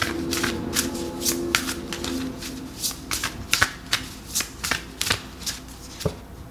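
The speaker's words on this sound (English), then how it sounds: "Let's pull an oracle card about this." A deck of oracle cards is shuffled close up, making a rapid, crisp flutter of riffles and taps in an irregular rhythm, alone and fairly loud.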